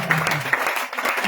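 A church congregation applauding to acclaim the Lord during a deliverance service, steady clapping from a crowd throughout, moderately loud and continuous.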